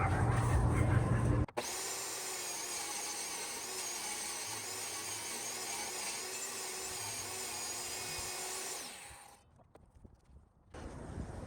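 A power saw cuts wood for book shelves made from Ikea Flisat parts, a sustained high whine held for several seconds close by before winding down, with a short burst of other noise at each end.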